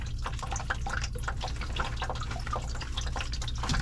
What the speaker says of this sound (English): Got a bucket dripping on my leg.